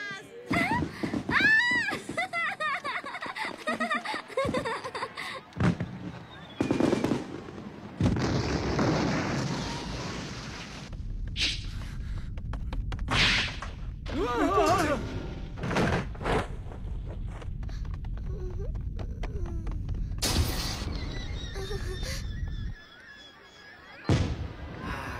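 Fireworks bursting in an animated series, a string of booming pops and cracks scattered over half a minute, loud and near, mixed with music and characters talking.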